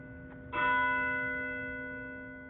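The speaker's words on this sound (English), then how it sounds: "the church bells called them to worship 3 times a day" A single mission church bell at San Antonio Missions strikes once after a faint tap, its rich tone ringing out clearly and slowly fading.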